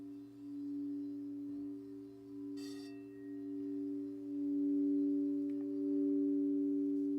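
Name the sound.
singing bowls ringing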